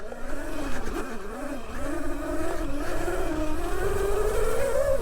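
An ETM RTR electric pit bike's motor runs with a steady whine that climbs in pitch toward the end, close and continuous, as the bike is ridden along a dry, overgrown track.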